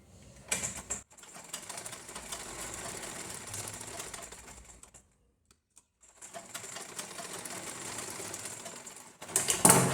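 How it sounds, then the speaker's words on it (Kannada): Domestic sewing machine stitching a blouse lining, two stretches of steady, moderately quiet mechanical whirring separated by a brief pause, with small clicks at the starts and stops. "ನೋಡಿ ನಾನು ಇವಾಗ ಸ್ಟಿಚ್ ಮಾಡ್ತಿದ್ದೀನಿ"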